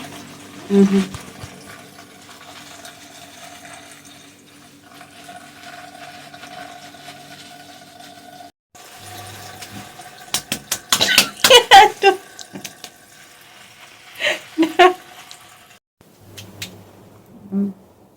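Water runs steadily over someone's hair during a wash, with a few clinks and knocks and conversation breaking in over the flow.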